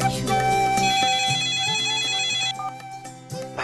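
A mobile phone ringtone plays loudly and steadily in a repeating electronic melody, filling the whole stretch with a brief dip near the end, no talk over it.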